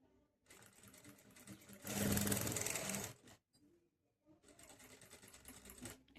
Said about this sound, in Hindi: बिल्कुल किनारे किनारे एक सिलाई लगाएंगे।